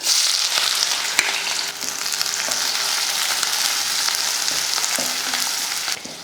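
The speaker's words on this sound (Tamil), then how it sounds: "எண்ணெய் காஞ்சதுமே கொஞ்சம் வெந்தயம் ஒரு பத்து போல் சின்ன வெங்காயம் ஒரு நாலு பல் பூண்டு கொஞ்சம் கருவேப்பிலை இதை சேர்த்துடலாம்" Fenugreek seeds, small shallots, garlic cloves and curry leaves frying in hot oil for a fish curry, a steady close sizzle with occasional pops and stirring clicks, no voices.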